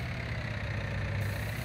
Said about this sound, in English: The engine actually revs up when you're loading, when it's being pumped in.